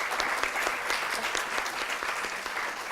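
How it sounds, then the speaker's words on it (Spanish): Audience at a university congress session applauding a speaker, a full, even burst of many hands clapping, sustained throughout at moderate level with no talk over it. "Un fuerte aplauso también para Cristina por el doble esfuerzo"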